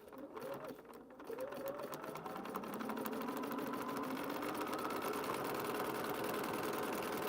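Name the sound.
sewing machine sewing paper-pieced quilt block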